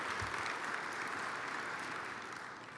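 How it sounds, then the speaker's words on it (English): Sustained applause from an audience at a 2022 annual meeting, steady and dense throughout and tapering slightly at the end, with no voices over it. "I do want to do a round of applause for those guys"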